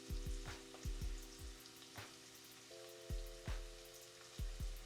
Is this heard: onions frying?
yes